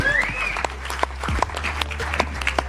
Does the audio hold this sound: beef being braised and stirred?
no